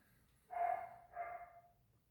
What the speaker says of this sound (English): Dogs are inside. Now they're barking on this side.